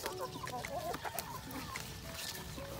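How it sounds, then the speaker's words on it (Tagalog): Chickens, including Rhode Island Reds and Black Australorps, cluck softly in short, scattered bursts against a faint outdoor background on a farm. "Chicken."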